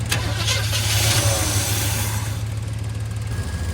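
The small-block Chevy V8 in a 1970 C10 pickup, stuck and choking on trash in the carburetor, cranks and catches, then settles into a loud, steady rumbling idle close by.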